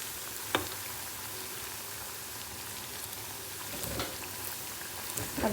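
Ginger and garlic frying in a pan for street-style cabbage manchurian, a steady close hiss of sizzling oil with a few soft clinks.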